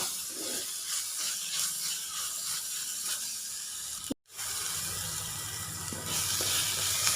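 Shallots and ginger sautéed in a pan for a fish curry, a continuous close hiss and sizzle with soft stirring scrapes and a brief dropout near the middle, no talking.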